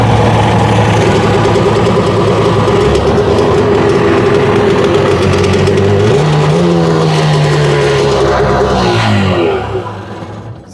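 A 1996 SPX or GTI personal watercraft with a broken exhaust stud and exhaust problems runs loud and close. Its engine note shifts in pitch midway, then dies away at the end.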